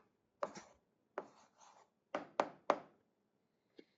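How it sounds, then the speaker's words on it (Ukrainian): Handwriting an algebra answer on paper, a few short scratchy pen strokes in separate bursts with quiet gaps, faint and close, no speech. "Ну що ж, записуємо відповідь, пишемо відповідь."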